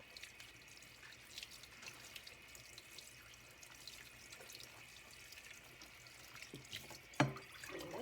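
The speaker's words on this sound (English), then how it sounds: "So we're going to rinse our potatoes off to make sure we remove all the excess starch." Water runs steadily from a kitchen sink tap as grated potatoes are rinsed, a faint, constant trickle with a brief louder splash or clunk near the end.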